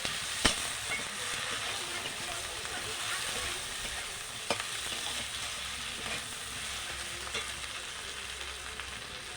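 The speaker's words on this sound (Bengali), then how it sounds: "এবার আমি মাছের মাথাটা দিয়ে দিচ্ছি। দিয়ে মাছের মাথাটা ভালো করে ভেঙে নিচ্ছি।" A fish head fries in hot oil in a pan while being broken apart, giving a steady soft sizzle with sharp scrapes and clicks of a spatula against the pan every few seconds, fairly quiet and close.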